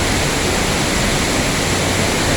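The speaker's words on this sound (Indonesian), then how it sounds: "air terjun Sarangwalet yang bertepatan di Desa TTB Batu, Kecamatan Tikur, Lombok Timur" Sarang Walet waterfall in East Lombok, Indonesia, gives a loud, steady roar of rushing, falling water, close up and unbroken, with no voices.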